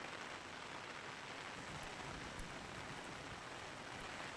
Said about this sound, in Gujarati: રાજકોટના ખીરસરામાં ધોધમાર વરસાદ વરસ્યો